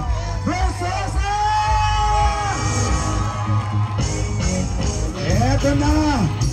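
A crowd at a Manila mayoral campaign and charity event yells and whoops loudly, while raised voices call out over the crowd noise.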